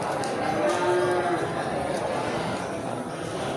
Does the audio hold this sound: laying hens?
no